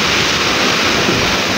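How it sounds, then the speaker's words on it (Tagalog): Strong typhoon wind and rain lash Isabela, Philippines, a dense, loud, unbroken roar of rushing air and water with no pauses. "Lumalakas yung hangin."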